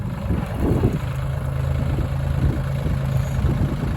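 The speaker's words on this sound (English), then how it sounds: "Borrowing my dad's tractor." A tractor engine idles close by in a steady, loud low rumble with a constant hum and slight fluctuations, and no voices.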